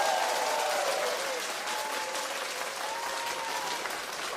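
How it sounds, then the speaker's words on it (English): Sustained audience applause and clapping, a dense steady wash of many hands at even loudness throughout, with faint cheering voices threaded through. "Clap for him, clap for him,"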